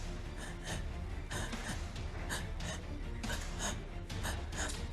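A man imitates the short, labored breathing he had during a coronavirus illness. He gives a steady run of quick, rough gasps and snorts, loud and close, with no words.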